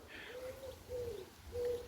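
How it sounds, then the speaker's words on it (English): A pigeon coos softly in a garden, three short low cooing calls spaced evenly, faint and somewhat distant over a quiet outdoor background with no talking. "You can hear a pigeon in the background"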